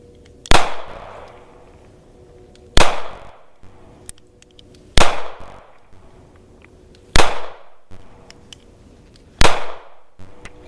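A Sig Sauer 226 pistol fires Hornady 115 grain XTP rounds in five loud, sharp shots, spaced about two seconds apart, each followed by a short decaying echo.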